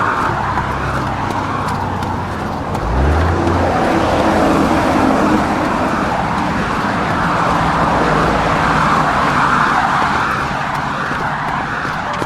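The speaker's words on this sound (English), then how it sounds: "The good old sound of traffic." Road traffic rumbling past, a continuous broad wash of tyre and engine noise with one vehicle swelling nearby around the middle, heard steadily without speech.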